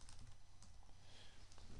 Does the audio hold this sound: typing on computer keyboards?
yes